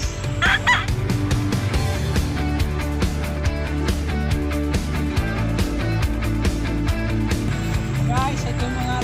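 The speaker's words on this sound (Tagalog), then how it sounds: "ito yung mga alaga kong manok" Pet chickens clucking on a farm, several birds calling at once with a rooster-like cry near the start, under continuous nearby talking in Tagalog.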